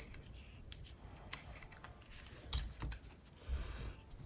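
Scissors snip off the end of a zipper for a homemade sewn wallet, a few sharp, close clicks and crunches at irregular intervals in a quiet room.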